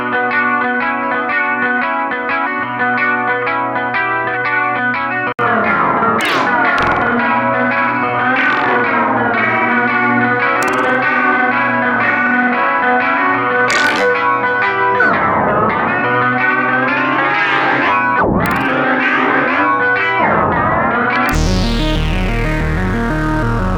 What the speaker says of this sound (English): You can modify guitars and pretty much turn them into something else.